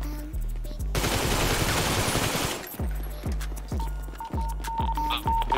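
Sustained automatic gunfire in the GTA V roleplay game rattles loudly for about two seconds, then gives way to a series of separate heavy shots landing at a steady pace.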